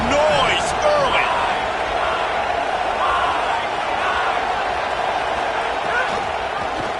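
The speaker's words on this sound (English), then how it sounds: "This crowd bringing the energy and noise early." Stadium crowd noise in the College Football 27 video game during an Arkansas week-one matchup against an FCS Southeast opponent: a steady, loud, unbroken roar with faint whistles and calls riding on top.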